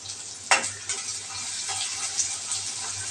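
Onion going into hot oil with cumin and curry leaves for stuffed capsicum, a soft steady sizzle with a brief sharp hiss burst early on and faint stirring scrapes, fairly quiet and close.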